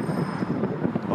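Steady wind buffeting a microphone on Oxford Street in Manchester, a low rumbling roar throughout with no voices.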